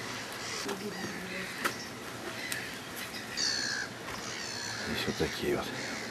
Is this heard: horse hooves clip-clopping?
no